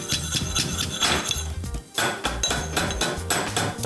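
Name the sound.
pounding garlic cloves in an old-fashioned mortar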